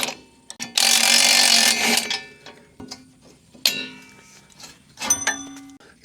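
Metal clanks and clicking ratchet-like ticks from a front bumper being unbolted in a shop, with a loud broadband burst early on, then scattered short clanks and taps close by, no talk.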